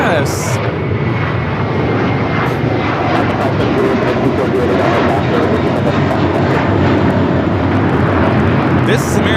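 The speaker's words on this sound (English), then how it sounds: "This is American Airlines 1024 taking off to Orlando on the A321." An American Airlines Airbus A321 bound for Orlando takes off at LAX, its engines a loud, continuous roar filling the whole stretch with brief clicks and knocks on top.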